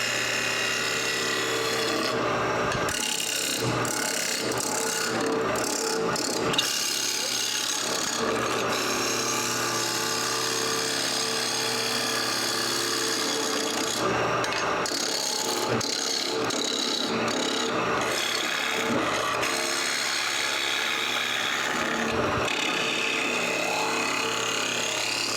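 A woodturning tool on a lathe shaves fine dust and thin shavings from a spinning wood blank, giving a continuous close scraping hiss with brief breaks throughout.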